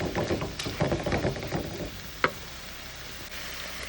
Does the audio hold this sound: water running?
no